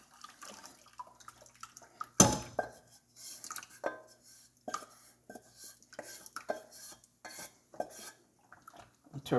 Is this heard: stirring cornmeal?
yes